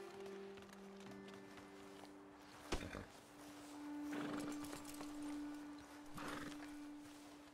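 Horses in a Red Dead Redemption 2 game scene, with soft hoof clops and shuffles and a faint whinny-like call over a low ambient tone and occasional distant rumbles.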